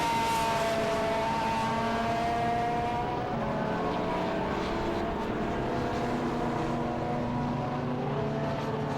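Aussie supercar lapping a circuit in a BARC race, engine note rising and shifting in a sustained loud drone as the car passes, with a second engine tone layered underneath and no talking.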